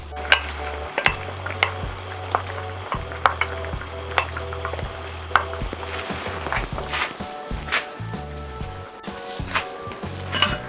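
Vegetables for lomi being stirred in a pan, with repeated scraping and clattering of a utensil against the metal over a faint sizzle, close and irregular.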